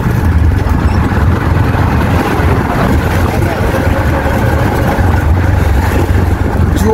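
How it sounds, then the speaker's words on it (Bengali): A fishing boat engine idles and chugs near the shore at Colombo, Sri Lanka, a steady loud low drone blended with wash and wind noise; an incoming tide adds to the constant rumble. "এই বোট শুধু মাছ ধরার ফিশার বোট"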